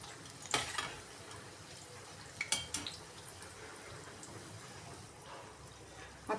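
Bhaji fritters frying in hot oil make a soft, low sizzle with a few clinks and scrapes of a spoon turning them in the pan.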